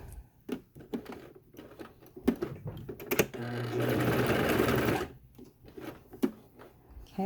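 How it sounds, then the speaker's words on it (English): Sewing machine stitching a fabric face mask, including a back stitch: short bursts of rapid needle clatter at first, then a longer steady run of sewing, followed by more brief stop-start bursts, close up with no talking. "I'm going to start sewing, back stitching, making sure that the back stitch happens"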